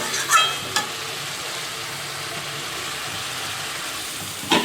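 Spice masala being stirred and fried in a pan, a steady close sizzle filling the clip with a few louder scrapes of the spoon at the start and end, no voices.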